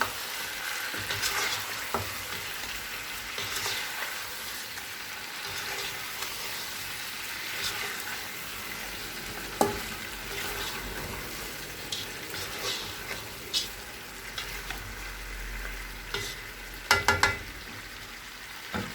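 Meat being stirred in a hot pan with turmeric and salt for aloo gosht, a steady close sizzle with scraping spoon strokes and occasional clatter, no talk.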